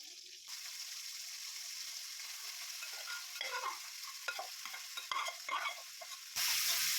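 Boiled potatoes and chopped tomatoes stir-fried together in a pan, giving a soft continuous sizzle with a run of quiet spatula scrapes and clatters in the middle and a louder hiss surging in at the end.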